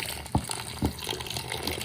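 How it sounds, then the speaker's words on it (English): Filtered water from a Berkey-style filter pours over rolled oats in a bowl, a close, steady liquid splash with two brief louder gushes near the start and middle. "I'm going to add filtered water from our brookie right here"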